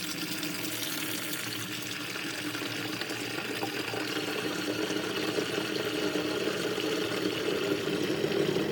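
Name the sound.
water pouring into feeder container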